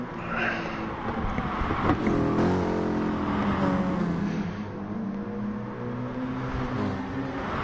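Racing cars, including a Peugeot and a Mercedes, at Mount Panorama in a Group 3 Super Championship race, their engines roaring loud and continuous as they rev and accelerate close by.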